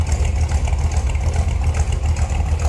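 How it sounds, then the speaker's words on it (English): A 1946 Ford two-door sedan with an aftermarket cam idles with a throaty, rumbling exhaust note, steady and close, with a slightly lumpy low pulse and no voices. "Nice throaty exhaust note. Little rumble to it,"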